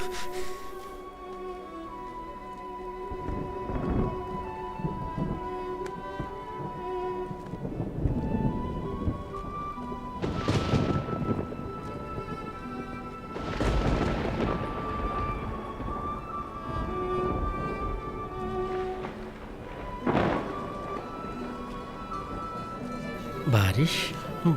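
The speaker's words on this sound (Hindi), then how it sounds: "देखो बारिश आ रही है।" Rain falls steadily while deep thunder rolls and cracks rise several times, with music-like tones and voices speaking over the storm.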